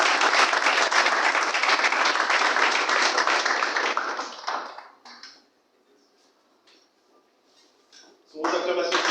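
A crowd at the official launch of a Gabonese teachers' network breaks into loud applause for several seconds, then fades to near silence with scattered taps before a fresh burst of clapping at the end.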